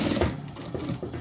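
Rapid mechanical stitching of a sewing machine sewing a small dress for a Shih Tzu, a steady close whirring clatter that runs without pause through the short stretch.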